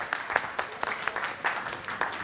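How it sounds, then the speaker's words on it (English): Scattered hand claps from a festival audience at a Japan festival in Ahmedabad, a few quick irregular claps close by rather than full thunderous applause, with no talk over them. "Big clapping for the all performers"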